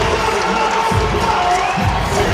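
An arena crowd roars and cheers after a huge block at the net in a Texas vs Missouri women's college volleyball match, a dense, steady wall of noise with high-pitched shouts throughout.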